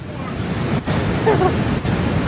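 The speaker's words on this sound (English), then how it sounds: "It's a pretty crazy river." A fast river rushes near Duchesney Falls, a loud, continuous roar of turbulent water close by, mixed with wind buffeting the microphone.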